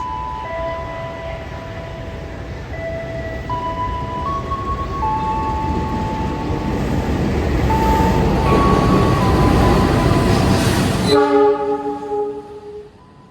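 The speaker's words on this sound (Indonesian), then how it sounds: "Ini persiapan masuk kereta api Jenggala rangkaian darurat kelas bisnis." The Jenggala passenger train, running an emergency business-class set, rolls into a station with a loud continuous rumble of wheels and cars that swells as it nears, while a horn sounds in long sustained tones over the noise.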